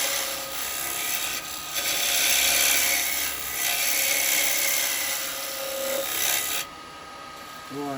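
A lathe turns a taper on a square wood blank, giving a steady, loud rasping scrape of the tool against the spinning corners that runs continuously, then drops off near the end.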